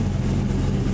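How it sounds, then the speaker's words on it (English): A Chevrolet LT4 V8 in an SL-C idles steadily through race mufflers and an exhaust crossover tube, giving a low, even burble that holds close and constant with no voices. "It's got some race mufflers on it, and the crossover tube in the exhaust helps with the sound."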